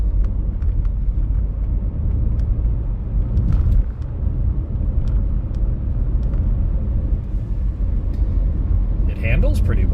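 Car driving on a road with a low steady engine and tyre rumble, light rattles from a plastic bucket and cleaning supplies in the trunk ticking through the cabin noise.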